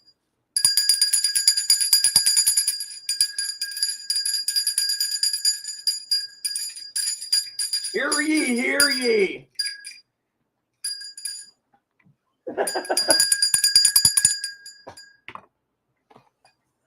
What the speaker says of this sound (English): Ordered some bells for Chloe to hear